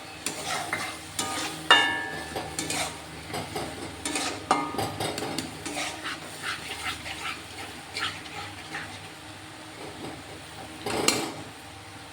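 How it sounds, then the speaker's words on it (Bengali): Ginger, garlic and chilli paste frying with chopped tomato in a pan, a spatula stirring and scraping in repeated rhythmic strokes over a low sizzle, with occasional metallic clinks. "এর মধ্যে আদা রসুন লঙ্কা একসাথে পেস্ট করে দিয়ে দেবেন।"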